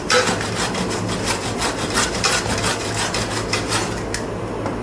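Block of frozen paneer scraped against a metal kitchen grater in steady, rhythmic strokes, a close, dry rasping that repeats about twice a second with no talking.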